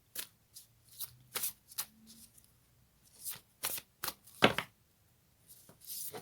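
Cards from a Moonology oracle deck are shuffled and drawn, making a string of short, crisp papery riffles and flicks in close, quiet bursts with pauses between.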